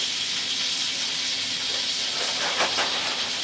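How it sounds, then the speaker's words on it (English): Half a stick of unsalted butter melting in a hot pan for a weekend steak dinner, giving a steady, close hiss and sizzle throughout with a few faint crackles near the end. "Take my half a stick of unsalted butter. Put that in here to melt."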